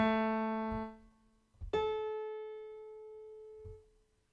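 Two sustained electronic tones sound in turn, each a stacked major-third interval played flat. Both are clean and steady with a short gap between them, and a faint thump follows at the end.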